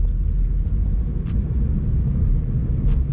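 A car engine driven by a learner on a permit practice run, a steady low rumble that holds fairly constant and close throughout, with faint intermittent high ticks above it.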